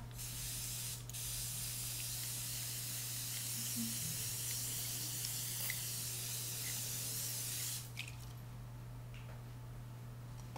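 Water runs steadily from a tap in a broad, even hiss, rinsing off a face scrub after a Nevo Dead Sea mud mask, with a low constant hum beneath and a brief change near the end.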